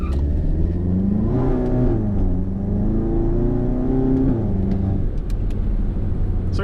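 A VW MK7 GTI with a Cobb Stage 3 catless downpipe revs and accelerates loudly up close, its engine note rising through a gear, easing briefly, then climbing again over steady road noise.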